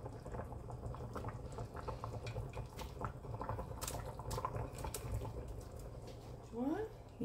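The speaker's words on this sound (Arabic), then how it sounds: "بخليهم هيك يتسبكوا مع بعض مع البصل والبندورة" Meatballs simmer in a tomato and onion sauce, bubbling softly and continuously with small pops and drips, while a voice talks quietly over the cooking.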